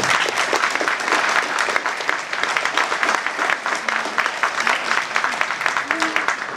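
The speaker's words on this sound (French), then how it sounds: "Merci d'applaudir Damien Éloi." A crowd gives sustained, dense applause for a table tennis player being introduced at an event in Franche-Comté, steady clapping throughout with faint voices underneath.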